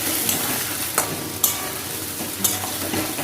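Ginger paste and chopped green chilli are stir-fried in hot oil for a Bengali fish curry, a close, steady sizzle broken by three or four crisp spatula scrapes against the pan.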